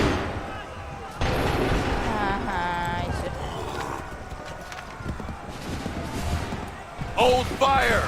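Musket volleys and cannon fire boom in an Assassin's Creed III Remastered battle, heavy and continuous with horses and shouting soldiers in the mix, a sharper blast rising near the end.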